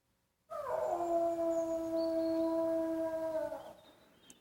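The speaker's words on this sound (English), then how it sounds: "Watson, did you hear? My blood is chilled. The hound?" A hound's long, mournful howl out on a moor, one sustained rising-then-steady wail lasting about three seconds before fading, close and loud with no talking.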